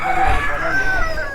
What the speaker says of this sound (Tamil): கோழி எல்லாம் செம்மையாக இருக்குங்க பாருங்க.